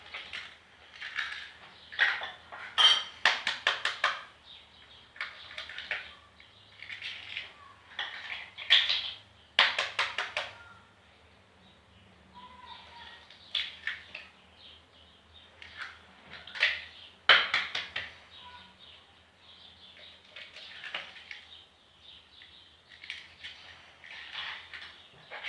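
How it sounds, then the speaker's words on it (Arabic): Eggs being whisked in a bowl while making a Swiss roll: bursts of quick metallic clinking and scraping that come in irregular runs with short pauses, close and moderately loud, with no talking. "راح ندرب هذا البيض"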